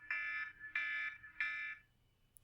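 Time-up buzzer sounds three times in an even rhythm, each a loud harsh electronic tone lasting about half a second, followed by quiet with a faint tap at the end.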